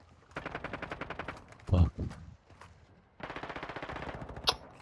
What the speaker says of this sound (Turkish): Çatışma sesi duyuyorum ya.